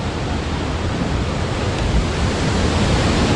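Loud, steady roar of water rushing over a large dam in Austria, a continuous broadband wash with no breaks, like a torrent pouring close by.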